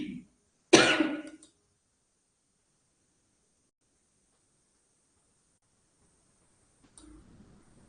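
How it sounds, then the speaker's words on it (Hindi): A single short, harsh cough from a woman teaching a class, near the start, followed by long silence and a faint rustle at the end. "या मेरे को खांसी बढ़ रही है फिर"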